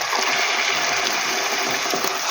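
Water poured into tomato paste frying in a pan, a continuous loud gushing splash with bubbling and a few faint clicks, close by.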